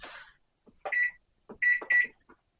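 A microwave oven beeps as its timer is set for a baked potato, a few short electronic tones in a sparse sequence at close range, while someone speaks briefly in between.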